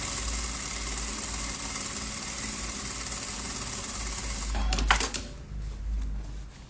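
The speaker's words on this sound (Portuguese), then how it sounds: "eu esqueci de fazer a costurinha de segurança aqui. Eu vou fazer agora, tá?" A sewing machine runs steadily with a close, even mechanical whir while stitching a fabric bag, then stops abruptly with a brief clatter, leaving a quieter hum.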